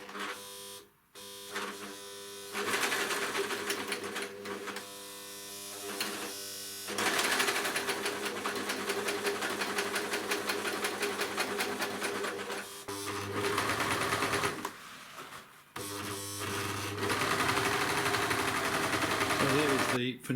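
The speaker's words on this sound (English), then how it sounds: "basically work your way around with the overlocker" An overlocker sewing machine stitches slowly around the top edge of a fabric liner for a wooden trug, a steady rapid mechanical whirring running in long bursts with brief pauses between passes, close and loud.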